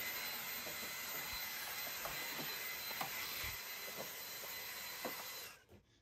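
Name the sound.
vacuum cleaner sucking up dust around an air purifier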